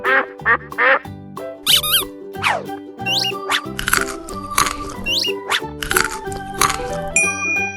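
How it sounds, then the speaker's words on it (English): Cartoon duck quacking in a farm-animal cartoon: a bright, loud series of squeaky, nasal quack-like calls and chirps, one after another, over cheerful music with sustained tones. "Duck."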